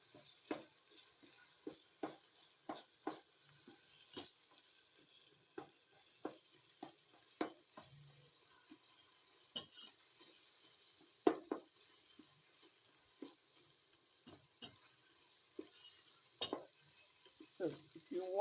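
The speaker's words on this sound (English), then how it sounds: "I will use my spoon to break it because it is too big" A spoon repeatedly knocks and scrapes in a pot, breaking up solidified egusi over low heat; irregular close clinks and taps with a soft sizzle beneath and no talking.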